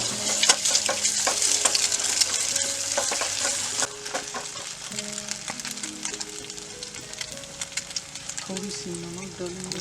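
Pasta ingredients fry in a pan over a jungle campfire and are stirred, a close, bright sizzle with scraping stir strokes. The sizzle is strongest early and softens after a few seconds, while faint talk carries on beneath it.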